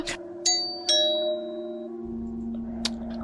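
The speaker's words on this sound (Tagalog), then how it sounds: "sino kaya ito nagdo-doorbell?" A doorbell chimes a few bright ding tones over a sustained background hum, fairly clear and close, with no voices.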